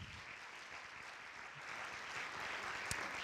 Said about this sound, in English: please applaud if you have never seen The Theater of Public Policy before